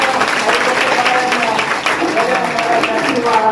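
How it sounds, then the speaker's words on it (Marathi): An audience at a stage event for a kirtankar claps in dense, continuous applause throughout, with voices mixed into the crowd noise. "जोरदार टाळ्या वाजवून आपण"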